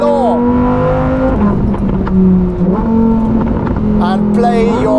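A Novitec-tuned Lamborghini Huracan EVO with a 5.2-litre engine revs up through its exhaust, the loud engine note climbing and falling in sustained pulls close by, with a voice speaking over part of it.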